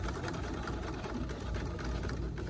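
A sewing machine stitches rubber jar-gripper fabric in one steady, continuous mechanical hum with fast, even needle rhythm, close and uninterrupted throughout.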